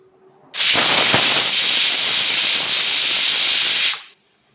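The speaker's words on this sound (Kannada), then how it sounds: "ಈಗ 3 ವಿಷಿಲ್ ಆಗಿದೆ" A pressure cooker with palak inside lets out one loud, sustained steam whistle. The hiss starts abruptly, holds steady for about three and a half seconds, then cuts off quickly in a quiet kitchen.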